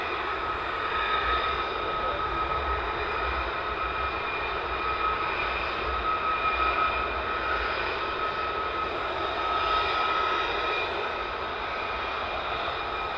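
F-15 and F-35 fighter jets fly night operations at RAF Lakenheath, producing a continuous, even jet-engine roar heard from a distance with no break for the whole stretch.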